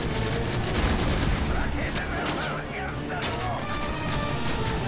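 Rapid bursts of gunfire crackle in quick succession amid game sound effects in Call of Duty: Modern Warfare 3, with someone talking in German over the shooting.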